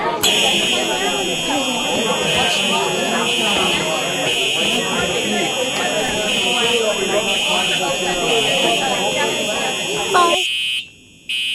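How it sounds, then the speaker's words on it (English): A cafeteria fire alarm blares as a continuous high electronic buzzing tone over dense crowd chatter and shouting, holding steady for several seconds before cutting out abruptly near the end. "I'll pull this fire alarm today and nobody's gonna do it"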